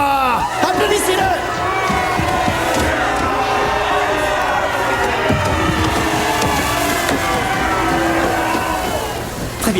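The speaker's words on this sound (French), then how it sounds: "Applaudissez-le." A large crowd cheers and applauds loudly and continuously at a wrestling introduction, with shouts and whoops in a dense, steady roar.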